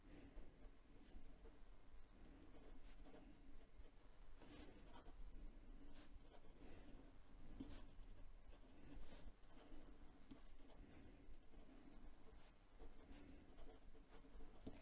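Hongdian A3 fountain pen writing fast on paper, a faint continuous scratching with quick strokes and light taps, close and quiet throughout.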